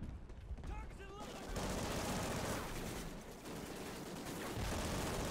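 Dense, sustained gunfire from the Call of Duty: Ghosts campaign, loud and continuous, with brief speech-like sounds early on.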